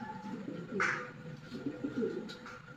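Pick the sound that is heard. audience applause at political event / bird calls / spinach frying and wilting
bird calls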